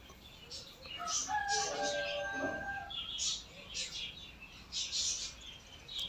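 Faint bird chirps and tweets repeat in short bursts in the background, with a few brief calls standing out above a soft ambient hiss.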